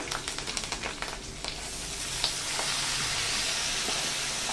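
Soaked chana dal goes into hot tempering oil for a cabbage stir-fry, with a few quick clattering taps as it drops in, then a loud, continuous sizzle that swells and holds.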